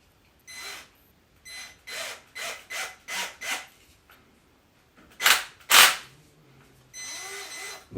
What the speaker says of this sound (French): On va mettre quelques vis pour maintenir la brosse